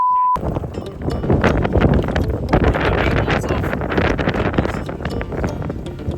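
Strong wind at sea off Little Cayman buffets the microphone aboard a fishing boat, a loud, continuous rough roar with gusty swells, after a brief tone at the start.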